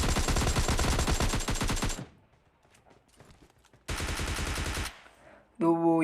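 Shotgun blasts in the mobile shooter game PUBG Mobile Lite come as rapid, loud bursts of repeated shots, broken by a near-silent gap before another long burst and a final short electronic tone.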